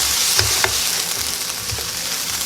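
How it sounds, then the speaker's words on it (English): Sliced sausage and vegetables fry in a skillet with a steady sizzle, broken by a few scraping thumps of a utensil stirring them through the pan. "The vegetables are coming along here pretty good. Just going to get them stirred up a little bit here."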